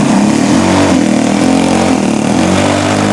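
Gas engine of a Seagull Spacewalker RC airplane running loud and close, a steady buzzing drone that holds at constant throttle throughout with no talk.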